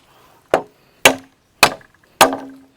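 Four sharp chopping blows on bamboo, evenly spaced, each a crisp woody crack that rings briefly, close by with no talking.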